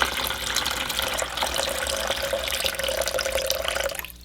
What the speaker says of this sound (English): First 2, just using water makes it easier.